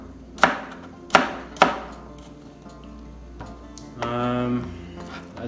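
A knife chops apples into cubes on a cutting board, with three sharp, evenly spaced thuds early on, then softer scattered taps and a brief rattle of pieces near the end.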